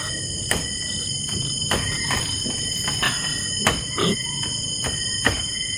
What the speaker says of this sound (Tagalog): parang kumakatok. Katok talaga. Katok talaga.